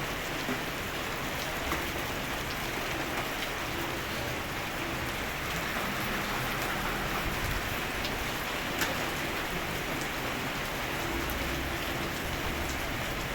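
Heavy rain pours steadily at an outdoor market in Demirci, a dense continuous hiss of drops drumming on surfaces with no break and no voices.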